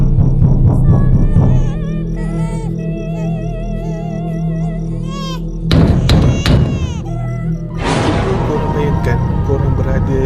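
Dull thumping knocks on a door land in a short cluster midway, loud and close, alongside wailing baby cries and a low rumbling background.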